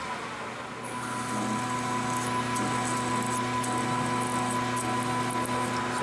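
Steady high-pitched whine of a drill bit grinding into steel, continuous and fairly loud, with faint scraping ticks over the top.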